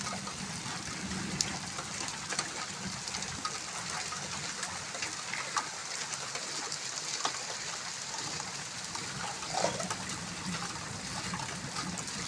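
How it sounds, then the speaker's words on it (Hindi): Heavy rain pours down steadily, a dense even hiss of drops on surfaces with scattered louder patters, moderately distant and continuous, with no voices. "इतनी मोटी बारिश आ रही है।"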